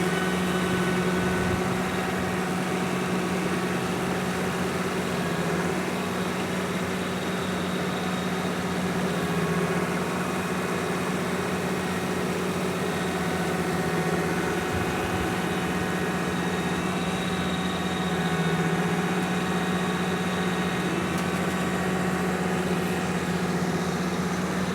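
A Kubota LX3310 compact tractor runs an offset flail mower, giving a steady, close, continuous engine drone with a constant mechanical whine that holds unchanged throughout, with no talking.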